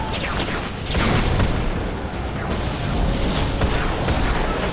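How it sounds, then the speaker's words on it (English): Vex enemy explosions in the video game Destiny, a dense, continuous booming rumble with repeated bursts, loud and sustained throughout amid busy game noise. "Vex explosion. I think it's kind of cool, like they just burst into like half liquid, half not liquid."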